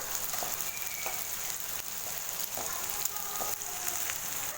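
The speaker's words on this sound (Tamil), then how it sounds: "ஹை ஃப்ளேம்லேயே வச்சு பூண்டையும் வதக்கிட்டேன்" Garlic and onion sauté over a high flame, a moderate steady sizzle with scattered crackles and pops and the occasional scrape of a spoon, close by and free of speech.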